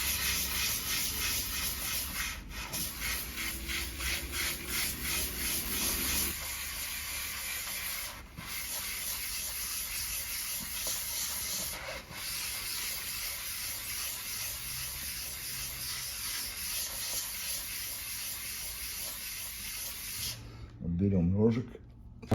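A meat grinder knife is rubbed on a 1000-grit abrasive, a continuous hissing scrape that runs steadily for about twenty seconds before stopping, with a brief voice at the end.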